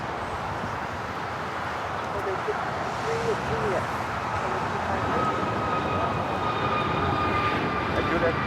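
An American Airlines A321neo taking off from LAX, its engines a steady broad roar that builds slowly and stays loud throughout, heard from a distance outdoors.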